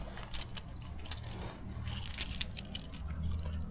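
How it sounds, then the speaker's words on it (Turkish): The key of a 2018 Opel Astra K jangles and clicks close by in quick, irregular metallic bursts, fairly faint over a low background rumble. "Bu arada anahtarımızı da gösterelim şöyle."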